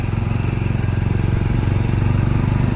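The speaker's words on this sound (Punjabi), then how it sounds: "ਸਾਰਾ ਮੋਟਰਸਾਈਕਲ ਤਾਂ ਬਈ ਪਹਿਲੇ ਗੇਅਰ ਮੈਂ ਹੀ ਚੱਲ ਰਿਹਾ" A motorcycle engine runs hard in first gear, a close, steady, rapid thumping drone that holds throughout.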